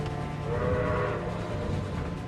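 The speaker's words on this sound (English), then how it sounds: "she heard the sudden sound of a whistle ahead of her." A sustained, droning train whistle with a rough, steady tone, heard moderately loud for a couple of seconds with faint rumble underneath.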